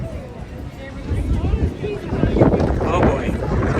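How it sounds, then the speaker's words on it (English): Gusty wind buffeting a microphone outdoors at Disneyland, a loud low rumble that swells and surges in waves, with no talk over it. "it's getting very windy now"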